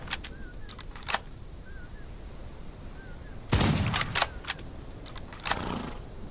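Sniper rifle shots in the Outlaws video game: a few sharp, separate cracks spaced seconds apart, the loudest with a broad burst and short tail, over faint background ambience.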